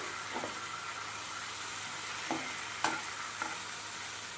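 Meal maker pieces get stirred with garam masala and coriander powder in a pan, a quiet, even sizzle with a few light spoon scrapes near the end.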